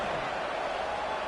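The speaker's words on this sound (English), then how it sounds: "this crowd is buzzing after that last score" A football stadium crowd buzzes after a score at a college game involving Clemson, a steady broad roar of cheering filling the whole moment without any clear break.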